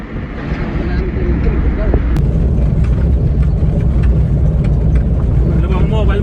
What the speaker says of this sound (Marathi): आपले योगेश भाऊ गाडी चालवत आहे.